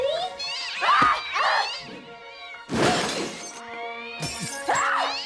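A cat meows and yowls several times in drawn-out, wavering cries, interrupted by a loud crash of something breaking.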